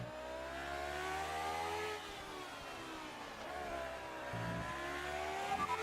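A classic race car in a racing game revs hard, its engine note climbing and dropping through gear shifts in steady, loud sweeps.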